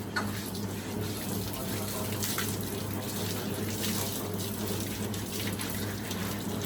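Water runs steadily from a tap at a dairy farm, a continuous splashing hiss with no pauses, fairly close and moderately loud.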